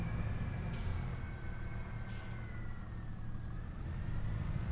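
Tractor engine in a logging video game, a steady low idling rumble, continuous and even, with two brief faint clicks over it, no talking.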